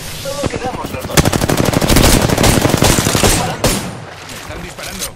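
Loud, dense machine gun fire from an online shooter game, with rapid bursts that keep pounding almost without pause for several seconds, then easing off near the end.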